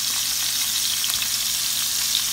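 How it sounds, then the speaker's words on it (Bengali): Rohu fish pieces fry in hot oil, giving a steady, dense sizzle with fine crackling that holds close and even throughout, with no voices. "মাছ মাখাইলাম, এখন আমি মাছটা ফ্রাই করি।"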